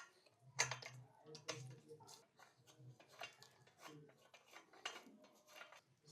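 Small metal clinks and rubbing taps from fitting a nut onto a clip of a Moxilla paddock stand, close and quiet, arriving in irregular bursts.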